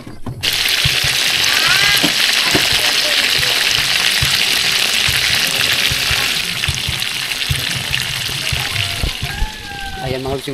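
Food frying in hot oil gives a steady loud sizzle and crackle throughout, with a person talking intermittently over it.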